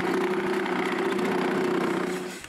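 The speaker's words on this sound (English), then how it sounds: "Next, I chamfer the other side with a bigger drill bit." A power drill with a larger bit chamfers the other side of a hole in a wooden camera baseplate, giving a steady mid-pitched whine at close range that winds down at the end.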